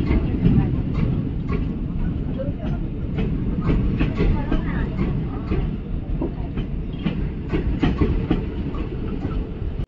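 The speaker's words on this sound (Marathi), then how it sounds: "तुतारी एक्सप्रेस सावंतवाडी गोवाच्या दृष्टीने रवाना झालेले आहे." Tutari Express on the Konkan Railway pulling out toward Sawantwadi, Goa on a cold winter morning: a continuous rumble of rolling wagons with faint clickety-clack, steady and fairly close throughout.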